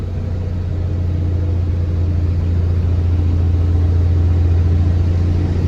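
A truck hauling over 45 tons labors up a steep incline, its engine giving a steady, loud, low droning rumble that holds without pause throughout.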